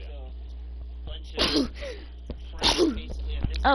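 A single sharp sneeze bursts out during live commentary over an arena solos video game match, with a second similar burst soon after, both mixed with talking and steady game background hum.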